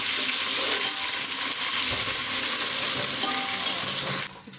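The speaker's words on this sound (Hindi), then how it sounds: "तो मैं इसके अंदर जो है 1 चम्मच लहसुन और 1 चम्मच जो है अदरक का पेस्ट ऐड करती हूँ। इसको भी मैं फ्राई कर लूँगी।" Garlic and ginger paste frying with onions in a pan for a pulao, a loud steady sizzle with stirring, close by, which cuts off sharply at the end.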